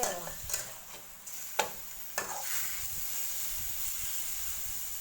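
Minced pork with baby corn stir-fried in an ordinary pan, a steady sizzling hiss throughout with a few sharp scrapes and knocks of the spatula against the pan early on.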